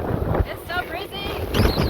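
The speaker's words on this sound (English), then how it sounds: "It's so breezy." Strong breeze buffeting a sailboat at sea near the Cape Verde Islands, steady wind roar rumbling across the microphone with gusts rising and falling, a person speaking briefly over it.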